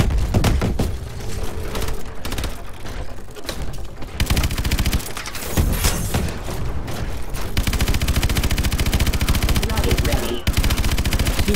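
Dense gunfire in the Call of Duty Advanced Warfare video game on PC, with loud automatic bursts and heavy impacts that stay continuous and close through most of the stretch.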